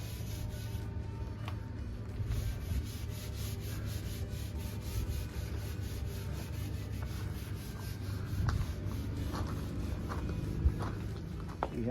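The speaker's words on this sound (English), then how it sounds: "Wiping it down with alcohol." Rubbing and wiping on a sailboat hull with alcohol before painting the boot stripe, a steady soft scrubbing texture close by with faint scattered knocks, no voices.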